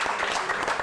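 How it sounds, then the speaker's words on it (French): An audience applauds contest participants at a local festival, a dense steady patter of clapping filling the short moment without pause. "on les applaudit, oui."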